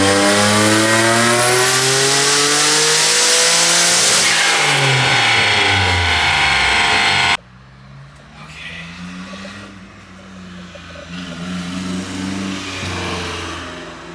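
A turbocharged Nissan 350Z engine revs hard on a dyno, rising through a long loud pull before abruptly dropping off to a quieter, fluttering idle and lighter revving near the car.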